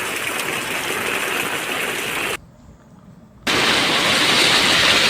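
Flood water after a day of extremely heavy rain, about 14 inches, rushes loudly and steadily through a village, a dense roaring flow that cuts out briefly in the middle and then resumes even louder.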